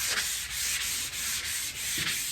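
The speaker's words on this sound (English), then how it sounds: "if you have enough experience with a DA and how to run it, you're just fine, especially with those finer grits" A DA sander runs over the body of a 1955 Chevy with fine-grit paper, giving a steady close whirring hiss with faint regular dips as it moves across the panel.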